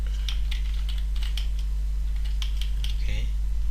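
Keystrokes on a computer keyboard entering a mkdir command, a quick irregular run of light clicks over a steady electrical hum, close and moderately loud with no voice.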